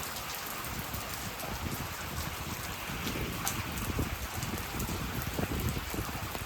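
Heavy rain pours during a thunderstorm in Corrèze, France, a dense steady hiss with gusty wind buffeting the microphone and close drops pattering throughout.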